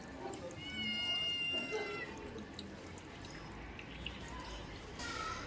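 Two hungry house cats meow at feeding time, their plaintive calls rising clearly over a steady indoor background hum, with a few more cries near the end.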